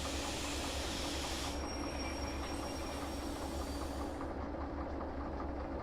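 A train brakes in the railway simulator game Derail Valley: a steady loud rolling rumble with a faint high wheel squeal, no voices.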